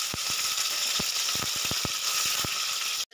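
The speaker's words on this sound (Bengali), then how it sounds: "আমি এগুলো 2-4 মিনিট একটু ভেজে নেব" Okra is dropped into hot oil in a pan and fries with a loud, steady sizzle, while sharp crackles and pops break through now and then.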